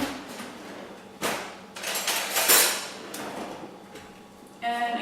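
A metal spoon scoops coconut oil out of a jar, giving a few close scraping and clinking strokes in bursts, with a brief rattle near the end and no talk.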